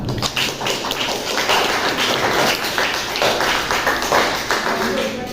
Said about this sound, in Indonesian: Tepuk tangan untuk Zulfa.